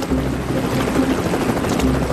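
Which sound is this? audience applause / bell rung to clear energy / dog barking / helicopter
helicopter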